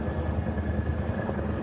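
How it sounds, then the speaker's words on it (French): An approaching helicopter in the horror adventure video game Megaboa fills the air with steady rotor chop and engine drone, fairly loud and continuous, with no voices. "L'hélicoptère arrive. L'hélicoptère arrive."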